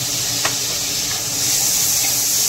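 Chopped garlic and tomatoes sautéing in a hot pan for a Maharashtrian kanda pat pithle, a steady soft sizzle and hiss with a faint stir, close and without talk.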